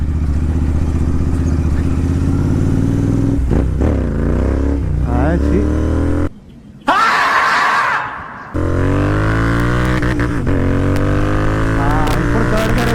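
A Royal Enfield GT 650 motorcycle engine runs loud and close while riding, its revs rising and falling through gear changes, with a brief dropout midway and a rider talking over the steady rumble.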